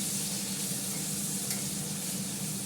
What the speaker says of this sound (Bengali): আলুটা আমার ভালো করে ভাজা হয়ে গেছে